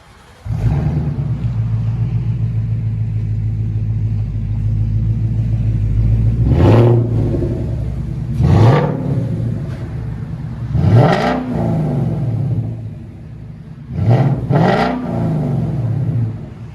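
A loud Ford Mustang GT 5.0L Coyote V8 idling with a deep rumble, then revved hard four times in bursts, each roar rising and dropping back to idle.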